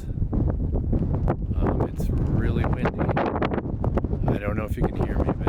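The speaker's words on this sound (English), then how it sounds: "It's really windy." Strong wind buffets the microphone at a high mountain pass in Wyoming's Wind River Range, a loud continuous roar and rumble that swells and gusts throughout, with a voice partly buried underneath.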